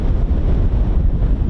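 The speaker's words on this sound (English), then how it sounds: "Man, it is extremely windy today." Strong wind buffets the microphone at the Holbeach air weapons range, a loud, close, low rumbling roar that barely lets up.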